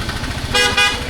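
Car horns honk in heavy road traffic, two short loud toots close by over a low engine rumble.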